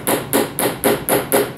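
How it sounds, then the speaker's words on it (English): A small hammer gently taps an axle into a mousetrap car's front wheel, six evenly spaced, close, crisp knocks in a steady rhythm with no talking. "take my axle and a wheel and a hammer, a small hammer, and I'm going to gently tap the axle"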